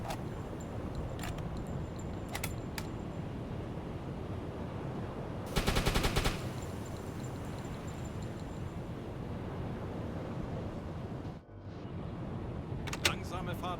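A 20 mm anti-air gun fires in a naval combat video game, a short rapid burst of shots over a constant low rumble, followed later by a few more sharp reports.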